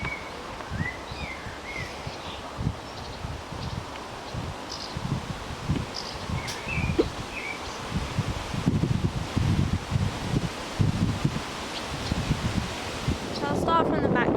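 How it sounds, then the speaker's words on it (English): Gusty wind buffeting and rustling close by on a farm, with birds chirping faintly in the background and intermittent speech-like sounds underneath. "sorry it's windy"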